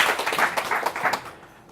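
An audience at a speaker training stage event gives a short burst of brisk applause that quickly dies down.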